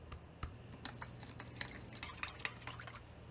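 A spoon stirring a marinade of soy sauce, cooking wine and oyster sauce in a bowl: soft irregular clinks and light liquid sloshes, faint and close, with no talk.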